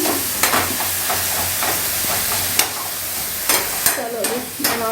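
Tadka spices sizzle and crackle in a hot pan on a home kitchen stove, a steady frying hiss with occasional stirring clinks and brief pops, close and fairly loud.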